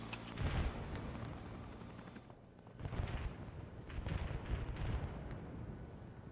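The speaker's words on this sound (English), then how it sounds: "I can hear gunshots" Bursts of gunfire and booming blasts in the video game Arma 3, dense and loud, with a brief lull midway before the shooting resumes.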